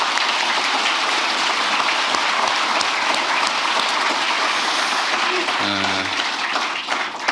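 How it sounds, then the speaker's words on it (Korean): A room of senior government officials at a workshop breaks into loud, sustained applause, a thick wash of many hands clapping together that fills the space for several seconds before tapering. "우리 동료들을 위해서 박수 한번 부탁드립니다"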